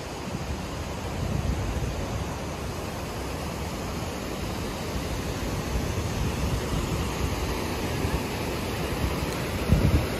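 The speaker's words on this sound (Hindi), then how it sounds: "यहाँ आप बहते हुए देख सकते हैं झरना को, और आगे वही पॉइंट से गिरता है" Stream of the Hundru Falls in its upper area flowing steadily, a continuous broadband rush of water mixed with wind buffeting the microphone, fairly even in level throughout.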